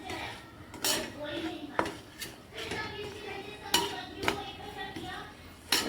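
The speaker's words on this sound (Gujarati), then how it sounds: "લોટ નાખીશું અને પછી લોટને શેકી કાઢીશું હલાવીને જોઈ શકો છો હલાવી દઈશું" Flour is stirred and roasted in a pan with a metal spoon, giving repeated scraping strokes and sharp clinks against the pan at an uneven rhythm, close and moderately loud.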